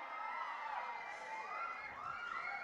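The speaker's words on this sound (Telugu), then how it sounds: "మనకు బండ్ల గణేష్ గారికి ఒక్కసారి గట్టిగా చప్పట్లతో" An audience at a Telugu film event cheers and applauds loudly to welcome producer Bandla Ganesh, a dense, steady wash of crowd noise with shrill whistles rising over it throughout.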